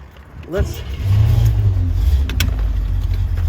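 A 1965 Corvette engine cranks with a brief whirring chirp, catches, then settles into a loud, deep, throbbing rumble with slight revs, close by.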